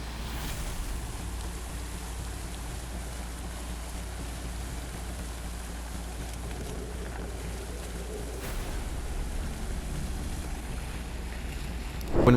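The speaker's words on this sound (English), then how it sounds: "recorded a devastating flash flood filled with debris approaching him" A steady, heavy rushing roar of a muddy, debris-filled flash flood in a desert country, with constant low rumble and wind buffeting the microphone, swelling slightly louder toward the end.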